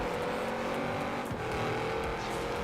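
A car engine in the video game Forza Horizon 4 drones steadily at close range, rising and falling slightly in pitch, with no voices.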